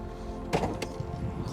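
Two short mechanical clunks, a latch release and a hood lifting, come from a Brabus 800 Mercedes-AMG GT 63 S with a 4-liter bi-turbo V8. The clunks are close and distinct over a quiet background.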